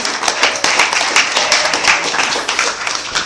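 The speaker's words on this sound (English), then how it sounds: "give you guys a round of applause, please" A stand-up comedy crowd bursts into loud, close applause, many hands clapping in a dense, steady rush that fills the whole moment.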